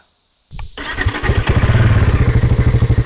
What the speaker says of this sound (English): let's hear what this sounds like.